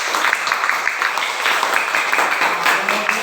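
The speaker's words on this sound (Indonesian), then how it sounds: "Tepuk tangan dulu untuk teman kita Wahyu" A classroom of students claps for a classmate, a dense patter of hands held steady for about three seconds, close and fairly loud.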